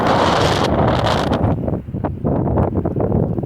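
Strong wind in Montana buffets the microphone in loud, roaring gusts, dipping briefly before surging back with rough, blustery noise.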